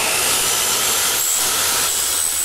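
A power saw cuts an aluminium profile for a bathroom shower enclosure, a loud continuous whining grind held close and steady throughout, with no speech.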